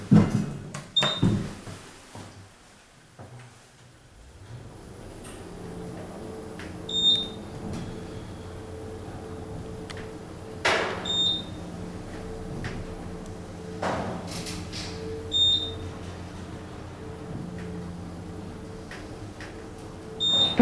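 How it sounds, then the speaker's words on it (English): An Otis Gen2 elevator door in need of adjustment slides and clunks with a few distinct knocks and bumps, set against a low hum and occasional electronic chimes in a building's elevator lobby. "And you can hear the door needs some adjustment."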